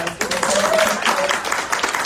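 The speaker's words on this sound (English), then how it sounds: "Can we have one more round of applause?" A crowd at a poetry prize reading claps, a dense patter of applause under a brief spoken voice.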